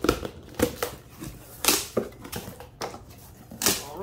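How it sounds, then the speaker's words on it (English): Cardboard box for a tire balancer being cut open with a blade, a series of short scraping, slicing strokes and crinkly tearing bursts at close range, irregularly spaced with no talk. "Let's get this box open and see what's all inside it."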